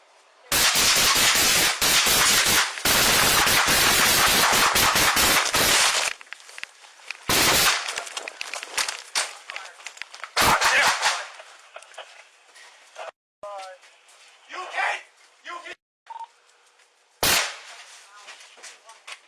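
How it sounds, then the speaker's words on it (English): Rapid bursts of loud high-powered rifle gunfire during a police shooting in Sacramento, dense volleys over the first six seconds, then scattered single shots with shouting voices and radio-like chatter between them. "This is a high-powered rifle."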